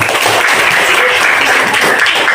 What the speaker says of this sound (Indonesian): Tepuk tangan untuk si Hafiz.